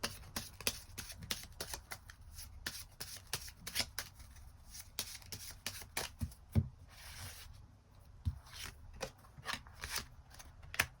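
A tarot deck is shuffled by hand, crisp rapid riffles and flicks coming in repeated bursts, close and fairly quiet, with no talking.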